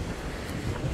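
Strong wind at a beach in Adler on the Black Sea buffets the microphone in a steady, loud low rumble, with sea waves and surf breaking underneath and no voices.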